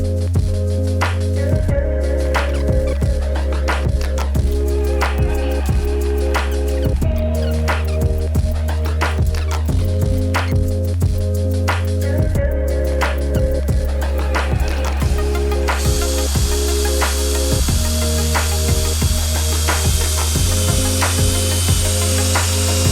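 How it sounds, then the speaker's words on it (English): A power drill bores holes into wooden ladder boards in repeated bursts, whining and grinding up close with pauses between holes, ending in a sustained harsher drilling run. "mark precisely on each board where I wanna make my drill holes and then get to drilling"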